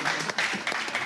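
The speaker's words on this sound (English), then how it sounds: "so I just like to put a round of applause" An audience gives a short round of applause, quick scattered clapping in a few uneven bursts, moderately loud and close.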